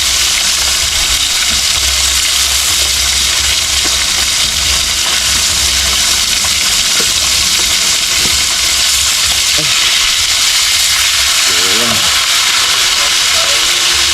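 Steady broadband sizzling of food frying in a pan, loud and continuous, with faint clinks and soft background voices.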